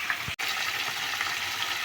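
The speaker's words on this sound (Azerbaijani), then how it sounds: "İndi də balığımızı qızardıram." Fish laid in a frying pan sizzle steadily for an iftar meal, a constant close crackling hiss that carries on throughout with one brief cut and no talking.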